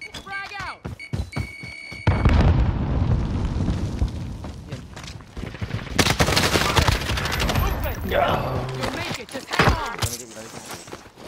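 A frag grenade goes off in a first-person shooter video game. It lands as a loud, booming blast amid bursts of gunfire, with players talking over the chaotic noise.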